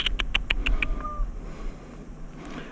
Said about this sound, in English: Saw this cat up here